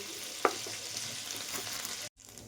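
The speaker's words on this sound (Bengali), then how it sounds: "এর মধ্যে আমি পোস্ত, কাজু আর লঙ্কা বাটাটা দিয়ে দিলাম" Poppy seed, cashew and chili paste fries in leftover oil in a pan, a steady soft sizzle running throughout with a brief clink early on and a short cut near the end.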